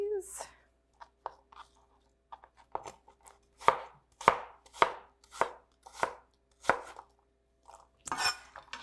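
A knife chops apples on a cutting board in a home kitchen, with about eight sharp, separate thunks in an uneven rhythm, close and fairly loud, and a brief voice at the start.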